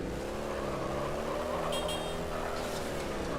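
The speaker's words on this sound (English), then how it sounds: "The thing that's not fun is how ass the mongoose sounds are on this thing." Mongoose vehicle engine from Halo 3 Forge, a steady droning car-like motor hum with layered tonal harmonics, continuous and moderately loud, with a short high-pitched electronic blip partway through.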